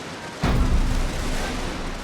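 Cannon fire in a Total War–style Russian campaign battle: one loud, heavy boom erupts after a half-second of quiet, then rumbles and decays over about a second and a half with no voices.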